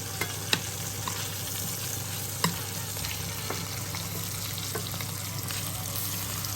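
Veal sweetbreads frying in butter in a pan, giving a steady close sizzle with occasional sharp pops and spatters and no talking.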